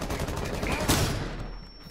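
Gunfire from the video game Rainbow Six Siege, heard as a dense, loud burst of rapid shots peaking near the middle and then trailing off.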